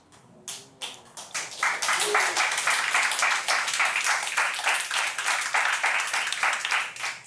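A church congregation applauds, starting with a few scattered claps that quickly swell into sustained, full clapping that carries on loudly to the end.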